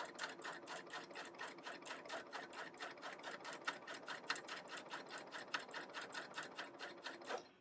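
A coverstitch sewing machine stitches along a stabilizer strip for a sparkly snowflake embellishment, with a fast, steady mechanical chatter that runs continuously at moderate volume and then stops.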